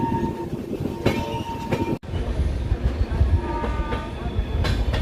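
A train on the Visakhapatnam to Araku line rumbles steadily close by, with heavy low wheel-and-carriage clatter and a brief dip partway through before the running noise resumes.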